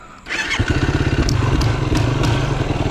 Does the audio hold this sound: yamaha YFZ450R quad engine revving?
yes